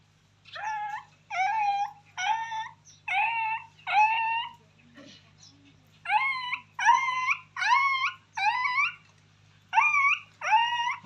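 A voice imitates a puppy whimpering: about eleven high, wavering whine calls come in evenly spaced bursts with short pauses, close and clear over a faint low hum.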